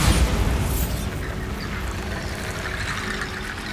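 Bombarda blasting spell in the Hogwarts Legacy video game, a loud deep boom at the start that rolls off into a fading rumble and hiss, alone with no voices.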